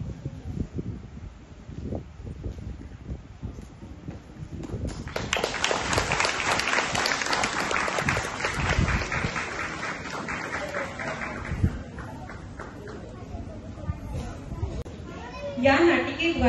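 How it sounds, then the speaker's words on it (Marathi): Audience clapping for the performers at a church Parents Day celebration, a dense burst of applause that swells after a few seconds of murmuring crowd, then continues steadily with voices underneath. "टाळ्या वाजवून आपण सर्व कलाकारांचे आभार मानू"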